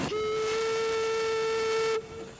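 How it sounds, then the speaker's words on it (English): A small steam engine powering an elegant river launch sounds a steady, sustained steam whistle with a strong tonal pitch over a hiss for about two seconds, then cuts off, leaving a fainter hissing tail. "This elegant launch can go upstream or downstream, irrespective of the wind. It's powered by a small steam engine."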